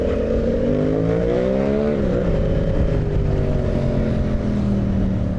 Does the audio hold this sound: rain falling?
no